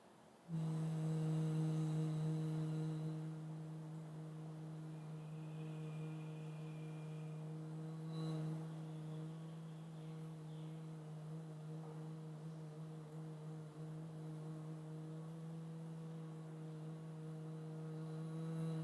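A human voice hums a steady, droning buzz for a long stretch, imitating a bee in flight, with slight wavers in pitch and loudness.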